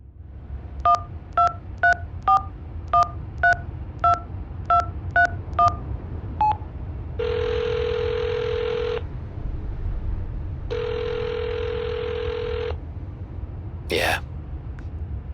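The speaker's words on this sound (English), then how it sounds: "Dial the number." A phone number is dialed in the mobile mystery game Hitchhiker, a quick run of about a dozen touch-tone beeps followed by two long ringback tones, then a short clunk as the call connects.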